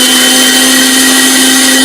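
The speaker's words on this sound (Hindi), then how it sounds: "अब इसको ग्राइंड कर लेंगे।" A loud, steady mechanical whir of a mixer grinder grinding pea-peel chutney, running continuously at high speed, close up, with no talking.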